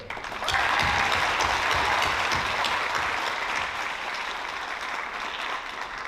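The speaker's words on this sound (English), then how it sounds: "please join me in a round of applause to all your support that you have here today" At a Class of 2022 graduation ceremony, a large audience breaks into sustained applause, a steady wash of clapping that holds loud from start to finish and eases slightly near the end.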